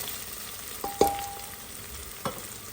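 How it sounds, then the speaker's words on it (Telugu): Marinated chicken fries in a pan with onions while a Hyderabadi chicken biryani is being made at home, giving a steady soft sizzle with a few sharp clinks and stirring knocks. "ఇంకా మ్యారినేట్ చేసిన చికెన్ తీసి దీంట్లో వేసి కొంచెంసేపు ఫ్రై చేస్తున్నానండి, పచ్చి పచ్చిగా ఉండకుండా."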